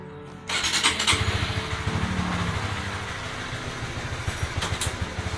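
A motorcycle engine fitted with a digital gear indicator cranks and catches after a brief quiet start, then settles into a steady, close idle with a rapid rhythmic putter.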